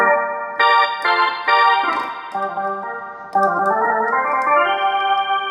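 A Kurtzman SV800 keyboard sounds its D50 patch: bright, sustained synth chords that change every second or so, swelling and shifting in pitch, played alone and fairly loud.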